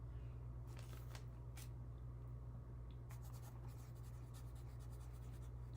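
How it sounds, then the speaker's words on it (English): Pen or pencil scratching on paper as tarot deck interview questions are written out by hand, a steady, close scratching in short strokes and bursts over a constant low hum, with no talk. "I'm actually writing them because that helps my ADHD brain remember the questions"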